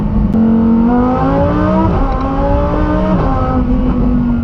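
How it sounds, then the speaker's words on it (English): Audi R8 V10 Performante fitted with a supercharger pulls hard under full acceleration, its loud engine note climbing through several gear changes with brief dips between shifts, close and continuous with no talk. "I think the only proper way to end this video is to do one acceleration pull in the supercharged Performante."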